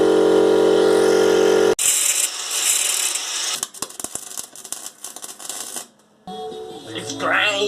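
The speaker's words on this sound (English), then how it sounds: "So yeah, now the rest of it we're gonna do with the grinder." An angle grinder works on a car's bumper reinforcement during a restoration, with a loud motor whine, then harsh broadband grinding and rattling bursts that cut in and out, ending in a rising whir.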